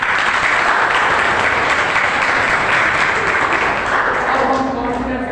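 An audience at a motivational talk breaks into loud, continuous applause, a dense wash of clapping that holds steady and eases slightly toward the end, with a voice faintly entering at the close.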